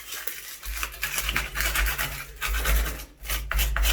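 Stiff sandpaper rubs back and forth across the surface of a hollow door in quick, uneven rasping strokes, close and fairly loud, with a low hollow rumble beneath.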